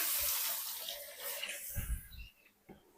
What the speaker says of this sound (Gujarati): એક્સ્ટ્રા પાણી રેડી દીધું આપણે